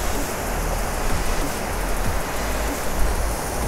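Ninai waterfall near the Nimai Mata temple in Shoolpaneshwar Wildlife Sanctuary roars steadily, a dense, continuous rush of falling water close by with no voices over it.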